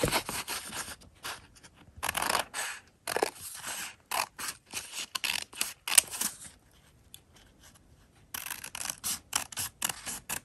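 Scissors cut out a paper template for a three-layer fabric face mask, giving close, crisp snipping and rustling bursts in irregular runs with short quiet gaps between them.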